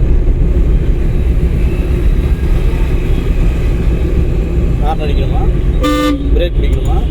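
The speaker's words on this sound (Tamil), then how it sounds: "ஹார்ன் அடிக்கணுமா?" A driving-school car sounds its horn with a short double toot near the end, over continuous road and engine rumble while a driving instructor talks.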